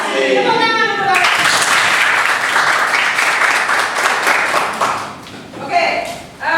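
Class of students applauding in a classroom, close and loud clapping that starts abruptly after a brief voice and swells, then tapers near the end as talk and a chuckle return.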